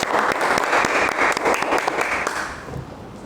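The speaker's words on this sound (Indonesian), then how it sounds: "kita berikan aplaus untuk ketiga paslon tersebut" A room of students claps loudly and steadily for three student council candidate pairs at a school election debate, the dense applause tapering off toward the end.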